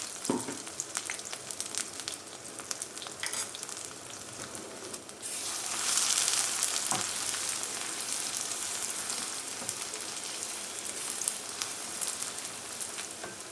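Homemade Schezwan chili sauce with ginger bubbles and sizzles steadily in a pan over high flame, a dense crackling hiss that swells midway as it is stirred, with no voices.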